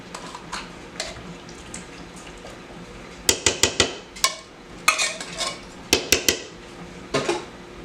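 A metal spoon scrapes food out of cans in a home kitchen: faint scraping at first, then a run of sharp clinks and knocks against the tin, close by, with no voices.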